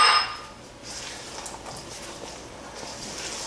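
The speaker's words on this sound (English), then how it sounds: "Then mix together into it 1 cup of coconut and 1 cup of chopped walnuts or pecans." A bowl of Italian cream cake batter gets coconut and chopped walnuts or pecans mixed in, with a few soft clinks and scrapes at the start, then a quiet, steady rustle of stirring and no voices.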